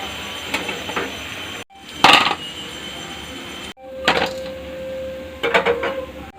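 Fried lentil fritters are lifted out of a pan, giving a few scattered metallic clinks and scrapes of a utensil against cookware with sizzling between them.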